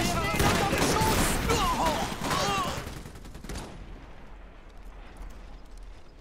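Gunfire crackles in rapid bursts during a Polania campaign battle in the World War strategy video game Iron Harvest, loud at first then fading into distant rumble, mixed with game voices speaking German.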